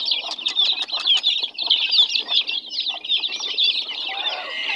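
Chickens flap their wings in flight close by, a busy flurry of wingbeats and rustling over a steady high chirping of chicks in a farmyard, with no voices.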